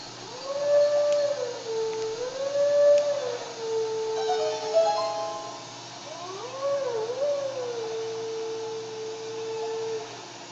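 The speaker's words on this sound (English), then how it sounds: "Next up, it's time to howl." Wolf howling in the video game Zelda Twilight Princess, long tonal howls rising and falling in pitch, two clear phrases over a faint game background, no talk.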